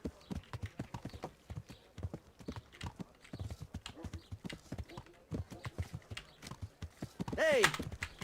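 Horse hooves clip-clop in a steady walking rhythm in the medieval video game Kingdom Come: Deliverance, with a brief whinny near the end.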